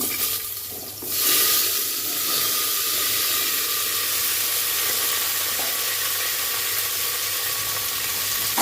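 Pumpkin, potato, pointed gourd and carrot tipped into a hot pan for bhuna khichuri, a loud steady hiss and sizzle rising after a brief dip and holding strong and close throughout.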